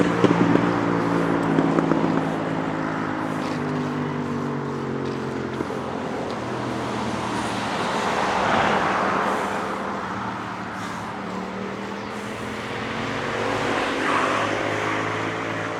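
Cars pass along a village road in China, a steady engine drone with tonal hum that swells and fades as vehicles go by, heard from the roadside over continuous background noise.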